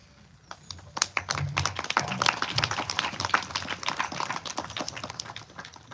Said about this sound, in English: Sri Venkatesh ji asked us to clap.